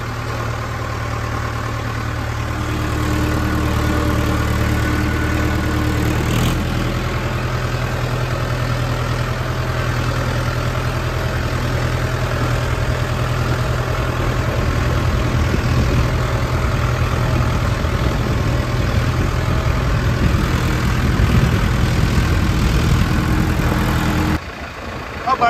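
A tractor engine runs at a steady, loud, low rumble while pulling a stuck vehicle out of mud on an offroad outing, holding a constant drone close by before cutting off near the end.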